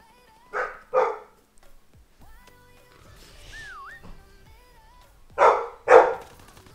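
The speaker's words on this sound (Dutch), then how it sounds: "Dat is trouwens mijn hond die blaft." A pet dog barks in two short double bursts, near and fairly loud, at the start and again near the end, with quiet game sounds and a faint whistle-like tone between.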